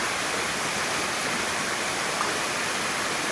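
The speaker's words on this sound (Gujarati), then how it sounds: "ત્યાંના કરતાં વધારે પાણી આવી ગયું આટલું બધું પાણી આવી ગયું" Floodwater rushing across a farm field toward a house, a loud, steady broadband roar without breaks, close by, with no voices.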